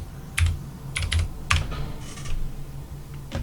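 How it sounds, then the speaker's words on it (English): Keys tapped on a computer keyboard while entering a password, a few sparse clicks in small clusters with pauses between, close and fairly quiet over a low background hum. "Type in the password."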